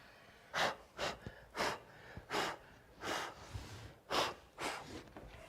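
Someone blows across a furniture surface during restyling, giving about eight short, close puffs of breath in an uneven rhythm, each one soft and airy, with no talk.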